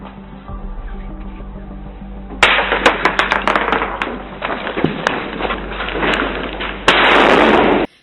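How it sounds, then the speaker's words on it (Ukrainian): An explosive tripwire detonates in a sudden blast, followed by scattered cracks and debris-like clatter, then another loud roar of noise near the end. "А на адресі на копів чекала розтяжка з вибухівкою."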